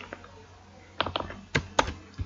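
Keys tapped on a computer keyboard while entering Python code, a few scattered clicks and short clusters of strokes, close and fairly quiet with no talking.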